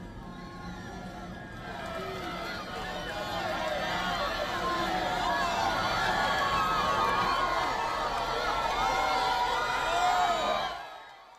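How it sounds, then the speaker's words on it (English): A vast crowd cheers and whoops at an open-air papal Mass in Madrid, a dense, steady roar with high shouts rising over it for about ten seconds before it cuts off. "The Pope also pauses to bless children, much to the joy of the cheering crowds"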